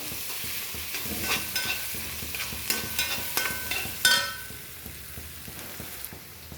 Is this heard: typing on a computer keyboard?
no